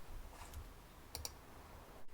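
A few quiet clicks on a computer keyboard, with a brief double tap near the middle, heard close against soft room noise and no talking.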